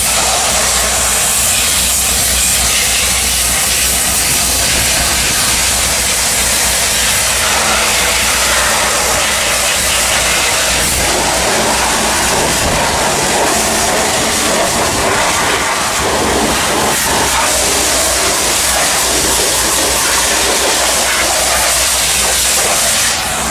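A steam cleaner hissing against a Ford 35 tractor engine, a loud continuous broadband rush that stays constant throughout, with no talk.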